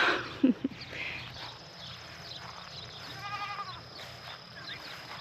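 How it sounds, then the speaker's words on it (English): Goats in a pen on a homestead bleat faintly in the distance a few times, with a brief knock up close near the start and soft rural background noise. "I still have 2 goats over in the wiener pen, but y'all are figuring it out."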